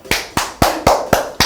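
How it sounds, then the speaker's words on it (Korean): Six sharp hand claps in a slow, even rhythm, each a crisp close burst with a short decay, coming from a small group cheering a correct answer during a housing-subscription lecture. "여러분 박수."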